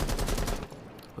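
Rapid gunfire bursts from a competitive tactical shooter match at a challenger league final, loud and close in the first half, then fading into quieter scattered shots.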